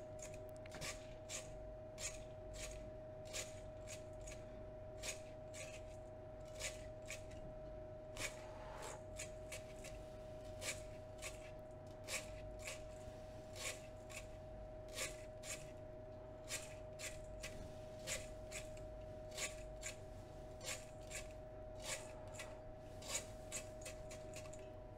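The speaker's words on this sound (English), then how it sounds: "Now we're going to scrape down the silver off the inside of the bowl." Metal scraper strokes rasp against the inside of a silver cell bowl, dislodging refined silver during gold refining, a quiet, regular series of short scrapes roughly once per second over a low background hum.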